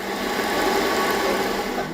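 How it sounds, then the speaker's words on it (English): Electric stone rice grinder working through soaked glutinous rice to make thick rice milk, a steady, dense mechanical grinding whir that holds at an even loudness throughout with no voices. "Putting soaked glutinous rice into the grinder, and soon a thick rice milk is made."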